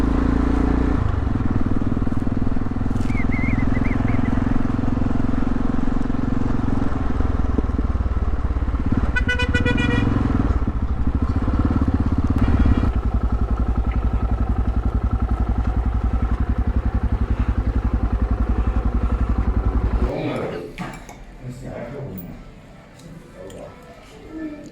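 A motorcycle engine idles steadily and loudly for about twenty seconds, then drops away, with a person talking over the running engine.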